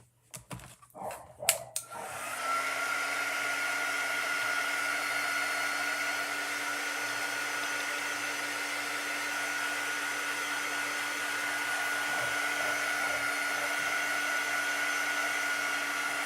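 Hair dryer blowing over wet chalk paste on a craft surface, a steady, close whirring roar that runs unbroken after a few brief knocks and a short bark at the start.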